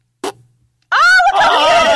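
A voice imitates a fart into a microphone, a short click followed after a pause by a loud, buzzing, wobbling blurt with a gobble-like tone.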